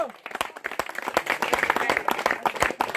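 Applause at a rural tennis-ball cricket trophy ceremony: a burst of many hands clapping in a dense, uneven patter that stays fairly close and steady for a few seconds, with voices faintly underneath.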